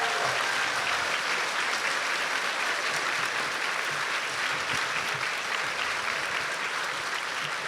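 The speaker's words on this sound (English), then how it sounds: "and another round of applause" Sustained, dense audience applause after a Shakespeare trial performance of Shylock, a full room clapping steadily and loudly for several seconds without a break.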